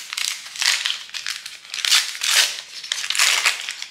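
Crinkly plastic packaging of LOL Surprise dolls being torn open and crumpled, with loud continuous rustling and crackling in repeated swells close by.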